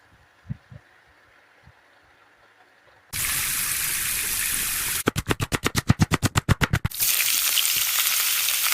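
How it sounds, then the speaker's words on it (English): Quiet taps give way to a loud steady sizzle of frying, interrupted by a rapid pulsing burst before the sizzle resumes. "Now search for the frying sound."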